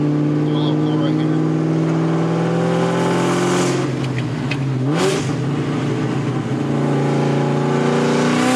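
Turbocharged car engine climbing in revs through an acceleration pull, a loud rising drone with a gear change midway before building again, heard from inside the car.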